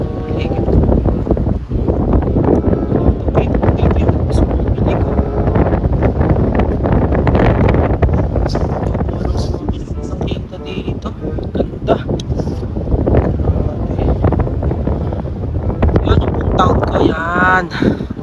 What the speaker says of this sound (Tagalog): Sa lakas pa ng hangin ngayon.